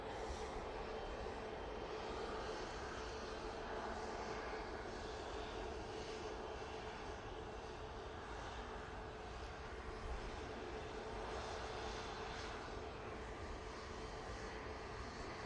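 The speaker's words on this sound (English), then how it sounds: "777-300ER or QR22. It's going from Manchester to Doha, and it's coming down to taxiway Tango" A Boeing 777-300ER bound for Doha taxis at Manchester Airport, its engines giving a faint, steady, continuous hum from a distance with no talking.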